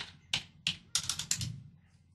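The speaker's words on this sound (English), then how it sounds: "I'm going to type in 28300." Numbers are typed on a computer keyboard in five crisp, close key taps, the first three evenly spaced and the last ones quicker together, fairly quiet against a faint background.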